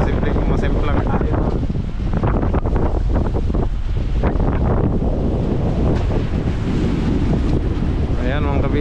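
Strong wind roars across the open Pacific during a typhoon, with heavy ocean waves surging around a fishing boat in a loud, continuous wash and occasional bursts of someone talking.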